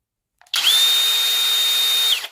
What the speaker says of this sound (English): This drill is too much fun. Let me show you. That's low speed.